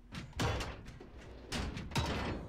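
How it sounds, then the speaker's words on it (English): Doors being bashed open and shut in the Modern Warfare shooter game, heavy thuds and slams at three moments within a continuous noisy game backdrop. "I bash the door, and then I close it, and then I bash it again."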